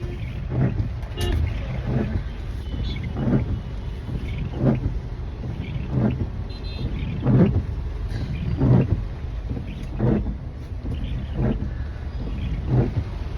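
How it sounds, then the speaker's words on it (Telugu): Congested traffic near Gachibowli, Hyderabad, on a rainy day: a constant low rumble of idling and creeping vehicles, punctuated by repeated swelling passes and occasional horn-like tones, fairly close. "అదిరిపోయే ట్రాఫిక్ హైదరాబాద్ గచ్చిబౌలి దగ్గర"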